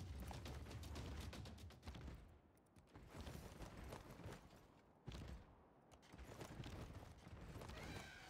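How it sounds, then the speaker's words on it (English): Horse hooves clop along in the Civilization VI video game, a busy layered stream of game sound effects with a neigh and mechanical clatter, cutting out in short gaps. "There's a horse on his encampment."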